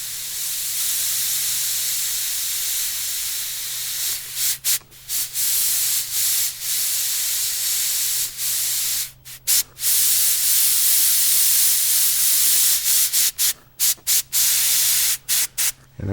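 An airbrush sprays paint in a near, steady airy hiss, broken into short bursts and brief pauses toward the end over a faint low hum.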